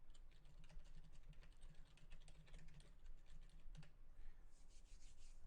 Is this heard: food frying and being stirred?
no